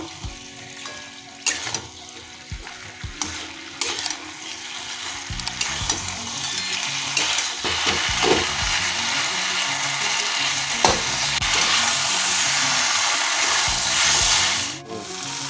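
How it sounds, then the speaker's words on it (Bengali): Fish heads are stirred into boiled vegetables in a pan for chhyachra, a Bengali dish, with a steady sizzle and frying hiss under scraping and clinking utensil sounds, close and continuous. "মাথাগুলো দিয়ে ভালো করে মিক্স করে নেব"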